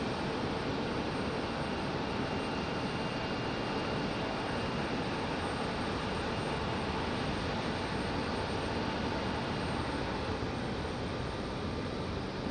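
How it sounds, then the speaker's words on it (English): An Alaska Airlines jet departs Raleigh-Durham International in the evening, bound for Seattle, its engines a steady, broad roar that holds at an even level throughout with no voices. "Alaska Airlines getting a move on, headed back to Seattle."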